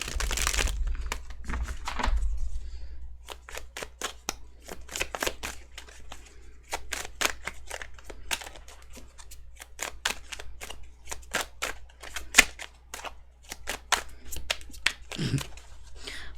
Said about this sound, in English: My shuffling is atrocious today for some reason.